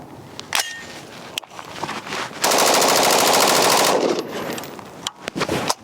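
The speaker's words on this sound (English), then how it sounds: "I decided to dump a couple of mags at an accelerated fire" A rifle fitted with an Aegis upper receiver is bump fired, a dense rapid burst of shots lasting about one and a half seconds, loud and close, between scattered single clicks and handling noises.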